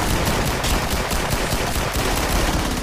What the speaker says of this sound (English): You put on semi-automatic mode, which is one shot at a time.